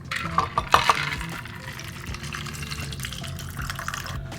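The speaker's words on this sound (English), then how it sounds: "add a splash of the supplied ginger beer and then strain it into my glass" Liquid is strained into a glass for a cocktail of rye whiskey and ginger beer: a few quick clinks and splashes up front, then a soft, low trickle of pouring liquid.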